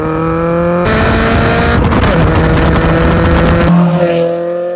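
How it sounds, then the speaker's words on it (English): A 1992 Honda Civic hatchback fitted with an HKS Hi-Power exhaust revs hard nearby, its engine note rising and falling loudly with a raspy exhaust drone through a short burst of acceleration. "This is my 1992 Civic hatchback, and in this video we're going to be getting to clips like this."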